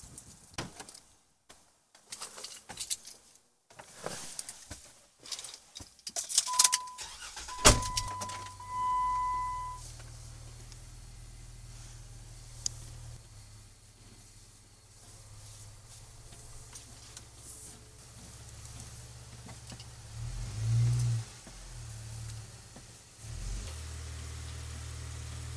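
A Jeep engine idles with a steady low rumble after some clattering handling sounds, the vehicle being turned around before its hard top is removed; a brief louder swell rises near the end.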